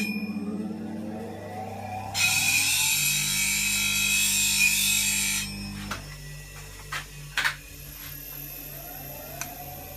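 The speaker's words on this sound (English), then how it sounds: "So I'll just put a fresh edge on this scraper." A steady high grinding hiss runs for a few seconds as a negative rake woodturning scraper gets a fresh edge on a sharpening wheel, followed by a few scattered clunks and handling noises.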